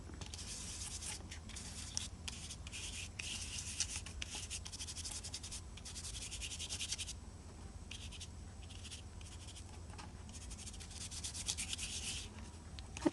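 Steady dry rubbing and scrubbing of an ink blending tool working Vintage Photo distress ink over embossed paper made to look like faux leather, a continuous close brushing texture with brief pauses and no talk.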